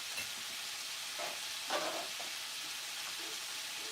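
Shrimp sizzling steadily in a hot frying pan for a firecracker shrimp dish, a soft, continuous hiss with a few brief stirring clatters, heard alone.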